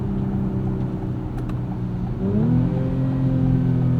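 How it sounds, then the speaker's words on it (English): A 2024 Acura TLX Type S engine drones steadily at night, then its pitch drops and resettles around the midpoint as the 10-speed transmission snaps into the next gear, loud and close. "Listen to the shifts from that 10-speed."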